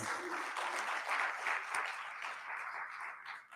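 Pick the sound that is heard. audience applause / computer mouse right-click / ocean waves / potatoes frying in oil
audience applause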